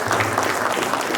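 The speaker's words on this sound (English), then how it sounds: "n we give Brother Jonathan and Brother Sabir a round of applause if you would?" A congregation at a mosque gathering gives a round of applause for two speakers, a brief, steady burst of many hands clapping indoors.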